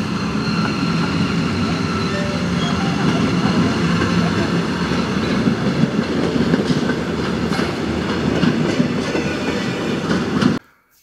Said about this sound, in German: Das sieht hier aus wie ein angetriebener Triebwagen, ein antriebsloser Mittelwagen, der auf einem Jakobsgestell fährt, und ein antriebsloser Steuerwagen.